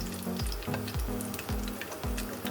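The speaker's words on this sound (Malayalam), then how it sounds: "നമുക്കിതിലേക്ക് കുറച്ച് വെളുത്തുള്ളി ആഡ് ചെയ്യാം" Garlic frying in sunflower oil for soya fried rice gives a loud, steady sizzle that runs throughout, with a repeating low tonal pattern, probably background music, underneath.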